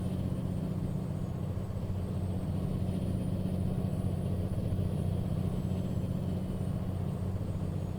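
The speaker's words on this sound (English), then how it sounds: "The engine actually sounds pretty decent for what it is." A truck engine in American Truck Simulator runs at a steady low drone, holding an even rumble throughout with no voices over it.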